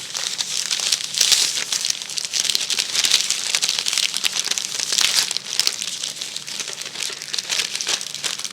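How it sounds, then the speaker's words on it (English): Parchment paper crinkles and rustles continuously as homemade puff pastry is rolled up inside it, close-up crackling in uneven bursts with no talk. "I've placed it in a parchment paper now, and what we're going to do is start rolling it up"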